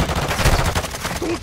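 Rapid gunfire crackles in Call of Duty Mobile, a dense run of sharp automatic shots at moderate level with game sounds around it.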